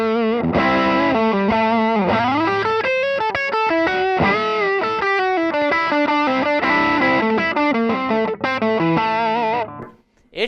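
Electric guitar runs through an Emerson Custom Pomeroy distortion pedal with the distortion turned up. It plays loud, sustained chords and riffs with a gritty saturated tone, then drops out at the end.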